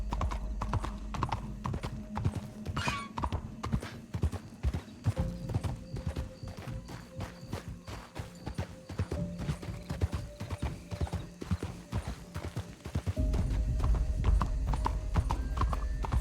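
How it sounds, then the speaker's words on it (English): Video game horse in a city setting: close, steady clip-clop of hooves walking at an even rhythm, with a brief neigh early on and mechanical background hum underneath. "There's a horse here."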